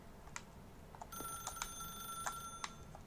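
A telephone rings in The Stanley Parable: Ultra Deluxe, a steady electronic tone with sharp repeated clicks over faint background noise, fairly quiet and alone.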